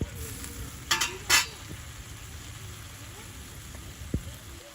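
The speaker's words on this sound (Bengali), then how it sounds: "ইচা মাছগুলো ভাজা ভাজা হয়ে আসছে" Small prawns fry in a pan with chili in village-style cooking, giving a steady close sizzle broken by a few scraping stirs early on and a sharp knock near the end.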